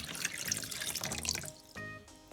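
Icy water pouring from a tap in a toy cartoon, a steady rushing splash that stops abruptly, followed by a brief ringing tone.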